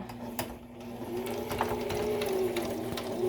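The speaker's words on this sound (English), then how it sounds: "we're gonna sew from this side of the tape to the edge" A sewing machine stitches a fabric mask from the tape edge outward, giving a steady, fairly quiet mechanical whir with a fine rhythmic chatter that runs throughout, with no talking.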